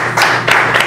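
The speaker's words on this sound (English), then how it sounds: "All right, a big round of applause." Audience applause at a banquet, a brief loud burst of dense clapping from many hands, close and continuous for about a second.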